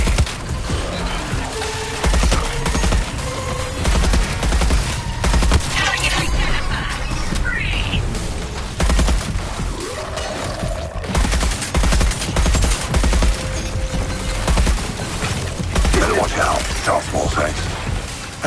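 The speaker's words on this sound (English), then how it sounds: "Energy weapon firing." Energy weapons fire in rapid, loud bursts during a chaotic Suicide Squad: Kill the Justice League battle, with crashes, mechanical clatter and occasional whooshing sweeps layered throughout, and voices partly buried beneath the barrage.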